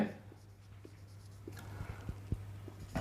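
A pen writes on paper while a trigonometry problem is worked out, making soft scratchy strokes and light taps at an irregular pace, close up, with a voice faintly present.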